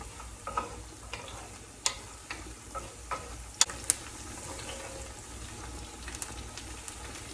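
Garlic browning gently in a pan over turned-down heat, a soft continuous sizzle with scattered small pops and ticks, close and quiet, with no voices.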